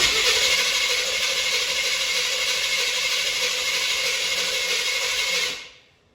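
A Chevy 350 V8 in a Corvette C3 cranks steadily for several seconds on the starter, a loud, even whirring drone heard up close with no talk, then cutting off abruptly near the end.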